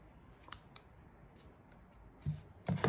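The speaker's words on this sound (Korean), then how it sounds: "가위가 안 드네요." Scissors snip through yarn ends while a tassel is trimmed, a few faint isolated clicks followed by two louder, closer cuts near the end.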